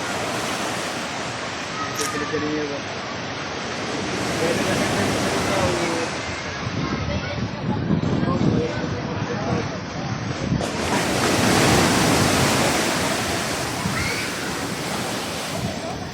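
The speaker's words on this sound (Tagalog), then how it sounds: "Grabe ang lakas ng mga alon mga kadagat." Strong ocean waves crash and surge continuously, loud and close, with heavy wind buffeting the microphone and a few voices talking over the roar.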